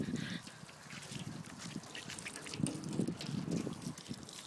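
Water splashing and trickling over the front wheel of a car during a car wash, a steady wet spatter at moderate level with small surges.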